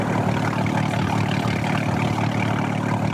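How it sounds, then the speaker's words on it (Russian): Motor launch boat engine pushing a nine-section pontoon bridge of about 60 tonnes, a steady, loud low-pitched drone that runs evenly throughout with no break. "Катер даже не напрягается."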